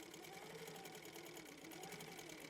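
A Handi Quilter longarm quilting machine stitches continuously along a ruler, producing a steady, fast mechanical hum and chatter close by, with no speech over it.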